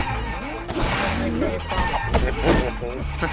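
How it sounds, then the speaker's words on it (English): Cartoonish chickens cluck and squawk in the Guacamelee video game, a few short calls running alongside steady game music and effects while people talk over the action. "I feel sometimes bad when I hit the chickens because there are other ones in the game."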